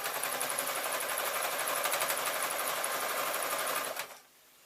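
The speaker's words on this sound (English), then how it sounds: "I'm going to keep on sewing" A sewing machine runs steadily, stitching jelly roll fabric strips onto a tote bag, its fast even whirr continuing near and loud for about four seconds before stopping abruptly.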